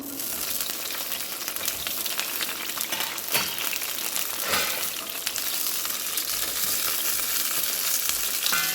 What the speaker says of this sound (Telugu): కొంచెం ఆయిల్ వేస్తున్నాను పచ్చిమిర్చి వేయించుకుందాం